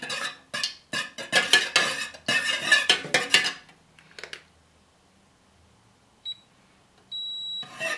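Melted wax for wax melts is stirred quickly in a container, with a run of rapid clinks and scrapes at first, then near silence, a short beep and a longer electronic tone from a device at the end.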